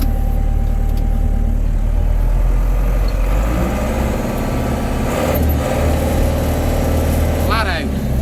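A Case 885 XL tractor's diesel engine runs steadily at close range, a loud continuous low rumble with a brief higher whine near the end.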